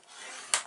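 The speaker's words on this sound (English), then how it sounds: "Turn it to the side and score it at half." A single short scoring stroke on paper laid in a scoreboard, a soft close scrape swelling and ending in a brighter rasp.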